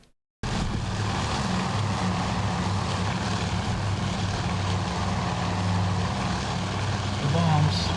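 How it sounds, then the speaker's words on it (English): World War II carrier planes flying in to land at night in an aircraft carrier simulator game: a steady, loud propeller engine drone that begins abruptly and holds constant, with someone speaking over it. "This is one thing I haven't done in a demo yet, is to have my friendly planes land at night."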